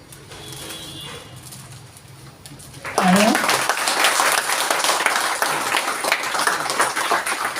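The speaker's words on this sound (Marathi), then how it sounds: "टाळ्या वाजवा" Audience applause breaks out suddenly partway through, loud and sustained with dense clapping after a quiet room with faint background noise at a community book event.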